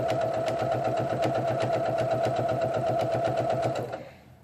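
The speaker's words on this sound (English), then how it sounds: "And I'm just going to start sewing that on." A sewing machine runs steadily as it stitches strips onto a quilt-as-you-go block, giving a continuous fast mechanical whir with a rhythmic needle clatter that stops abruptly near the end.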